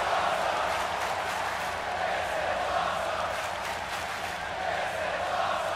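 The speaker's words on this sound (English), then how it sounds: "by the sound of this crowd, I think they're getting what they wanted" Video-game wrestling crowd from WWE 2K17 during a SmackDown match, Randy Orton against Cesaro: a steady, dense roar of cheering that holds at an even level throughout, broad and washy without distinct breaks.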